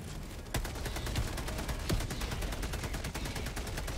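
Rapid bursts of gunfire from a video game firefight against a large enemy, dense repeated shots over a steady loud backdrop, with a few sharper cracks standing out.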